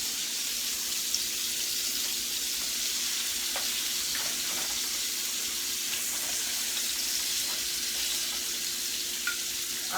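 Country style ribs and garlic fry in a pan, a steady, bright sizzle that holds evenly throughout with faint clicks and stirring, close and with no talking.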